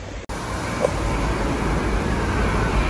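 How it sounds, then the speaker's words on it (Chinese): Strong seaside wind blows across Hailing Island in Guangdong at a campsite, a loud, steady, unbroken roar filling the whole clip with no voices. "我靠，风这么大！"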